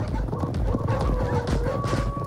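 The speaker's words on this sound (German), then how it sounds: "Eine Schleppjagd wie hier auf Herrenchiemsee ist eine echte Herausforderung für Pferd und Reiter." Horses clip-clop across the ground during a drag hunt at Herrenchiemsee, with quick, irregular hoof beats from several animals close by, layered over a busy outdoor background.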